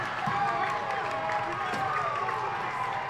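At a South Carolina college ice hockey game, just after a goal, the crowd cheers and roars in a dense, continuous arena wash, with speech blended into the noise.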